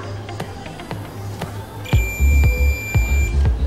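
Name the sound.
multimeter continuity test beep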